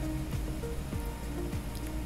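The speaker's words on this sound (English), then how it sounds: "Torrential rain." Torrential rain as a sound effect, a steady dense hiss of falling water with scattered drop patter and low rumbling underneath, continuous and even throughout.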